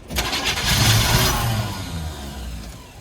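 An old truck engine cranks briefly and catches, rising into a loud, rough running roar that holds and then eases slightly, with no voices.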